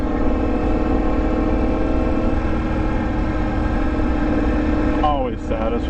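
A Yamaha MT-10 motorcycle fitted with an Austin Racing exhaust idles with a steady, loud, rumbling drone, close by, until a brief change in the final second.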